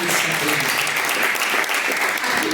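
Steady applause from a church congregation, dense continuous clapping filling the whole stretch with a faint voice underneath.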